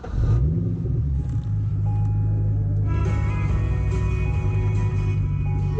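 A Chevrolet Corvette C7 V8 with aftermarket exhaust cranks and fires up, then settles into a deep, loud, rumbling idle close by.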